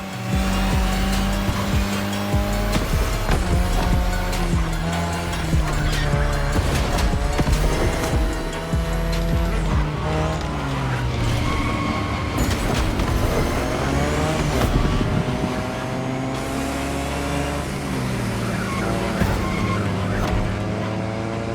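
Drift cars in The Crew Motorfest racing game scream through sustained tire squeal and skidding over loud, revving engines, continuous and close with shifting pitch for the whole stretch.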